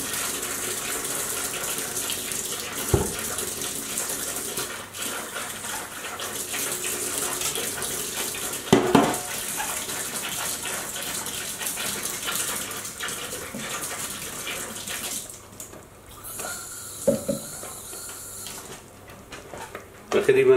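Water gushes from a tap into a container of ground fava beans for ful, a steady, close rushing flow with brief clinks, fading near the end while a voice talks over it.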